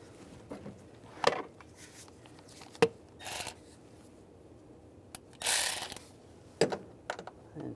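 A ratchet tightens the ignition coil bolt on a 2011-2018 RAM 1500 with the 3.6L V6, giving short, close bursts of clicking between quieter handling sounds and brief pauses.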